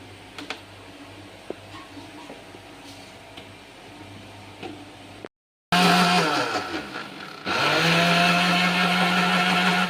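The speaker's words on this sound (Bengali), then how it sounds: "তো আমার মিক্সারে" An electric mixer blends lassi made with cold water. After quiet clicks and a short silence, the motor starts loud, its pitch sweeping as it spins up, then settles into a strong, steady whir with no talking.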